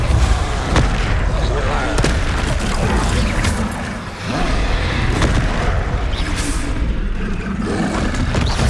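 Spell blasts in the Hogwarts Legacy video game go off as repeated booming bursts and crackling impacts, mixed with a voice speaking over them.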